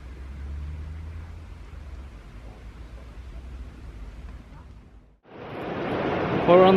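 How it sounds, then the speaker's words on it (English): Ocean surf rolls onto the beach at Dunnet Bay in Scotland, a soft continuous wash of waves heard faintly at first before a sudden louder rush of broadband noise, likely wind buffeting, near the end. "Got the sound of the surf"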